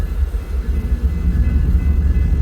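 A freight train hauled by ES44C4, ES44AC and SD70MAC locomotives rolls past nearby, a loud steady low rumble of engines and wagons without voices.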